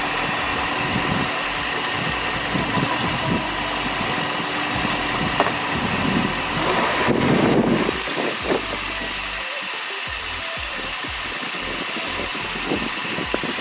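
A Toyota Echo engine idles steadily with a low, throaty exhaust rumble, a brief swell of noise midway, then settles back to its even drone.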